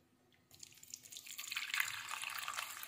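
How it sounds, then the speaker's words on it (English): Water pours steadily into a bowl of bean curd with garlic and oyster sauce, starting after a brief quiet and continuing as a soft, close, splashing trickle. "So this one need to add some water"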